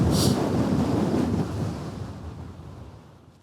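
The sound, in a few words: cold wind on a hilltop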